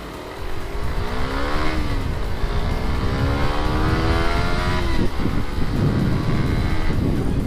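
A Raider 150 FI motorcycle engine revs hard, its pitch rising and falling in repeated sweeps that are loud and close, with wind rumble and no talking.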